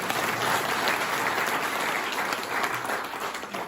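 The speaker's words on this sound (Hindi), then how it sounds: "ताली बजाओ।" A crowd at a Hindi-language leadership training session claps loudly and steadily for nearly four seconds, dense overlapping applause with no voices over it.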